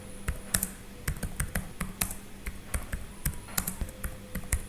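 Python code is typed on a computer keyboard in a quick, uneven run of crisp key clicks, close and fairly quiet, with no one speaking.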